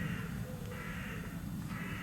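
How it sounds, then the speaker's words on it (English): Crows cawing at dusk as they settle down, several harsh caws sounding at a distance over a low, steady outdoor rumble. "Crows always start when it's going dusk, when they're settling down."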